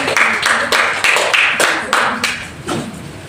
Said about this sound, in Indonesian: Kasih tepuk untuk kasih tepuk tangan.